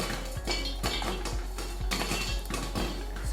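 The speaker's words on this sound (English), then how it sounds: "the trick is to give it a shake" Stovetop popcorn kernels popping vigorously in a pot being shaken, with repeated metallic clanks and scrapes of the pot sliding on the burner in a steady rhythm, close and fairly loud, with no talking.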